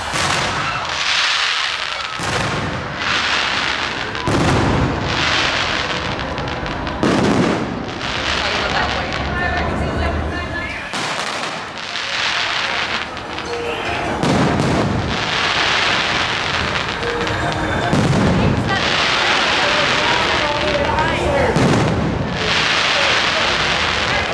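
Fourth of July fireworks burst over Disneyland in a string of loud booms and crackles spaced every few seconds, echoing over a noisy crowd, with people talking throughout.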